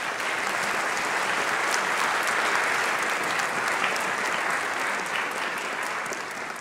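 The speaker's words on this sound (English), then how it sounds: "So can we get a quick round of applause for these individuals?" A high school orchestra winter concert audience claps steadily for several seconds, a dense, sustained wash of applause in a hall, alone without speech.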